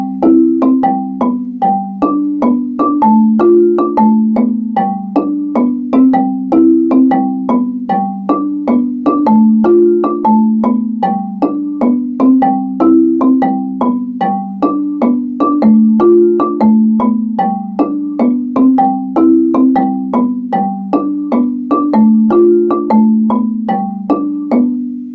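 A Kutandara-style marimba plays the Shamwari first soprano part down in the tenor register, a steady repeating pattern of warm wooden mallet notes that carries on evenly and alone for about 25 seconds.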